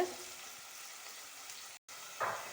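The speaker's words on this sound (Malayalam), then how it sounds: "ഇതാ ഇളക്കണുണ്ട് കേട്ടോ" A pot of sardine curry with tomato, onion and curry leaves is stirred, giving a soft, steady bubbling sizzle with faint scraping, a brief dropout, then a slightly louder stir near the end.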